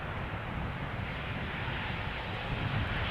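An eight-year-old Transavia Boeing 737-800 arriving at Schiphol from Naples, a steady distant jet engine roar with broadband rumble, unchanging and fairly faint throughout.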